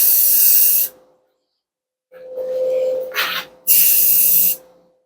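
Short bursts of aerosol spray paint hiss onto vintage RV mirrors, close and loud, separated by pauses, with a faint steady hum underneath.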